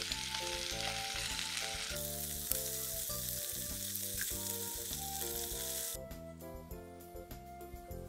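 Green onion kimchi sizzles with pork belly in a pan at a solo backpacking camp in a pine forest on Seorisan, a steady close frying hiss running under background music.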